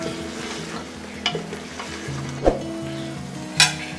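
Chicken biryani masala frying and being stirred in a pot of oil: steady sizzle with spoon scrapes and a few sharp clinks of utensil against the pot, close and alone.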